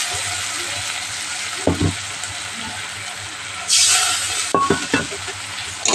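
Spices, salt and turmeric sautéing with fried onion in a pan, a continuous close sizzle broken by a few sharp spoon scrapes and stirring knocks, with a brief louder hiss burst midway.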